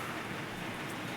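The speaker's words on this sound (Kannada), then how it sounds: "ಮಳೆ ಅಂದ್ರೆ ಮಳೆ ಬೀಳತ್ತದ" Heavy rain falls in Sri City, Andhra Pradesh, heard from inside a vehicle as a dense, steady hiss that never lets up.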